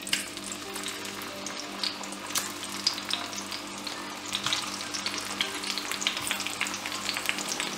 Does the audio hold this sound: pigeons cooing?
no